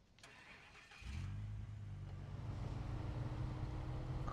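A truck engine starts up in a video game: about a second of faint quiet, then the engine catches and settles into a steady, rumbling idle that builds slightly in volume, with no talking.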